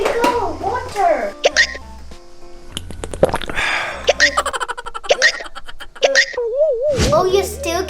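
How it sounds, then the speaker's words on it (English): A child hiccups repeatedly amid lively playful sounds, music-like tones and giggling, with sharp short bursts scattered through the clip. "Oh, you're still getting hiccups?"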